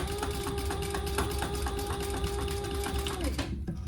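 A sewing machine top stitching a crossbody bag runs steadily and close, a fast even mechanical whir and needle patter that holds for several seconds before stopping abruptly near the end, with no talking.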